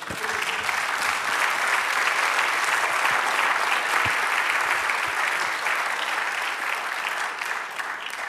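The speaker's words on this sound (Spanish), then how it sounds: "Dale un aplauso al Señor." A church congregation claps steadily and loudly, sustained applause filling the whole stretch without a break.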